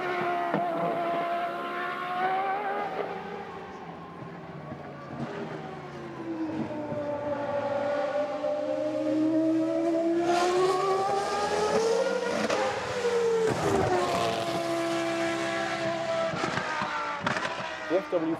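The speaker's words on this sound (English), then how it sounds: "under the back there is a screaming, wonderful Renault V10" A Williams FW14B Formula One car with a Renault V10 engine screams at high revs, its pitch sweeping up and down through gear changes as it passes, loud and continuous throughout.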